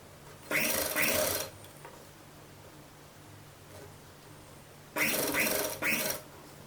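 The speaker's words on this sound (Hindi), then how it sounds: "इधर दोनों कपड़ों के बीच की जगह पर हम सिलाई लगाएंगे" Sewing machine stitching piping onto a kurta neckline runs in two short bursts of fast, steady whirring, about a second each, separated by quiet room hiss, close and without talk.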